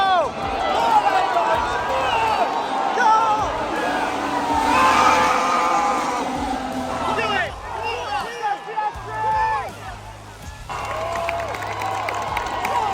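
A large crowd at the British Grand Prix cheering and applauding as the formation lap begins, a sustained roar of voices and clapping with individual shouts rising out of it, and a nearby person speaking.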